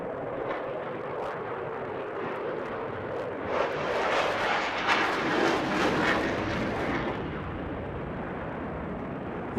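A Eurofighter Typhoon jet performing at the Eastbourne International Airshow gives a distant, rising-and-falling engine roar with crackling bursts that swell in the middle, then fade back to a steady rumble.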